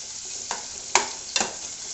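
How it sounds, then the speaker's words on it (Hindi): Onions frying in oil while a spoon stirs them, with a steady sizzle and three sharp scraping strokes of the spoon against the pan. "गोल्डन ब्राउन करेंगे हम प्याजों को, अच्छे से चम्मच लगाएंगे और गोल्डन करेंगे"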